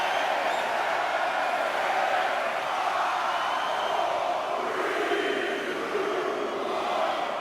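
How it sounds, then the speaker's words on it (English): Dense, steady crowd roar from a virtual wrestling arena audience in the WWE 2K20 video game, a broad continuous wash of cheering that holds loud throughout with only slight swells. "Listen to this crowd count the next one in."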